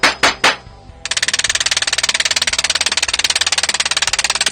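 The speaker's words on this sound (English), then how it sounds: "I'm now using a screwdriver." A screwdriver is held against the rim of a spinning sycamore platter on a woodturning lathe to texture it. A few sharp knocks come first, then a loud, rapid, evenly pulsing chatter runs steadily to the end.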